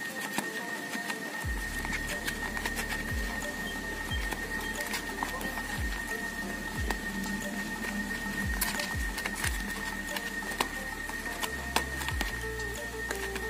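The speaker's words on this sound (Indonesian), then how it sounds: "Umpan ini akan kita kocok guys." Chicken-gut fishing bait mix is shaken in a container for catfish, giving a steady rhythmic patter of repeated soft thumps and sloshing that carries on without talking.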